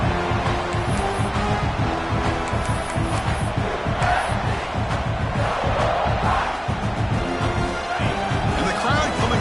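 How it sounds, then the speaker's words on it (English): Stadium crowd at a college football game roars continuously in a dense, loud wash of cheering and yelling, swelling slightly midway, with a commentator's voice faintly under it. "And the crowd coming to life here,"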